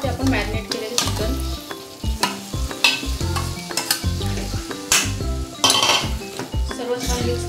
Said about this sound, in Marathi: आता ह्यामध्ये मी घालते आपण मॅरिनेट केलेले चिकन।